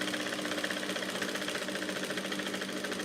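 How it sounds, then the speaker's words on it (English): A sewing machine stitches the side seam of a blouse, a fast, even mechanical whirring with a regular rapid ticking rhythm, close and steady throughout. "I'm going to stitch the side."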